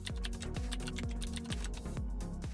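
Fast, even typing on a computer keyboard while entering a subheading in PowerPoint, crisp close key clicks in a steady run with no voice.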